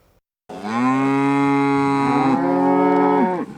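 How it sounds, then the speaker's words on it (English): On a ranch at feeding time, a single cow gives a long, loud moo close to the microphone. It holds a steady pitch and falls off at the end, with no talking. "Down on the ranch, it's chow time, and the cattle are hungry."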